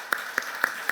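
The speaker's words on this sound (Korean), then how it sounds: "박수 치고 영광을 돌립시다" Church congregation clapping during a worship service, four distinct, evenly spaced claps in a steady rhythm, moderately loud and close.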